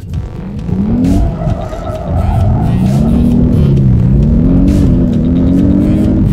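An Audi S8 Plus with quattro drive, rated at 605 hp, drifts hard. Its engine revs loud and close while the tyres squeal in long wavering howls that build after a brief dip and keep going to the end.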